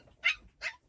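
Two short, high-pitched yaps from a playing Toy Mini Aussiedoodle puppy, close by, spaced about half a second apart with quiet between.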